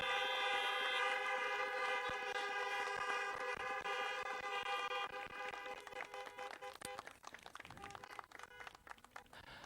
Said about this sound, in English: Let's all congratulate our graduates with another round of honking.